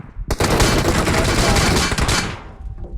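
Sustained automatic gunfire from a mobile battle royale video game, loud and dense bursts filling nearly three seconds before tapering off, with no talk over it.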